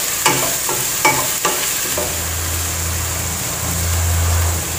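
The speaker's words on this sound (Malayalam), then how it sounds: "നന്നായിട്ട് അങ്ങ് ഇളക്കി കൊടുക്കാം" Ingredients for a Kerala-style chicken stew stirred in a frying pan, with a few sharp spoon scrapes early on over a steady low sizzle and a faint background hum, no talking.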